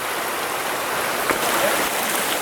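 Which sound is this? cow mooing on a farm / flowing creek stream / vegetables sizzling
flowing creek stream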